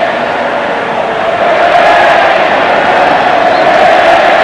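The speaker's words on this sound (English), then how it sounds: "Crowd getting restless" Steady roar of a large stadium crowd at a 1986 State of Origin rugby league match, a dense restless murmur that swells slightly louder midway and holds, with no distinct talk on top.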